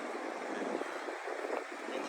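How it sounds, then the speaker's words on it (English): Waves roll and slap around a small boat at a coastal river mouth, a continuous broadband wash with wind buffeting the microphone, loud and close with no gaps. "the waves are getting a little big here"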